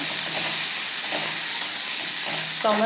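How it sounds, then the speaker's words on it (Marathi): Onion and tomato sautéing in a pan for a dried shrimp (sukha javla) dish, with a steady bright sizzle throughout and a few soft stirring scrapes, close up and with no talk. "हे व्यवस्थित परतून घ्यायचं आहे"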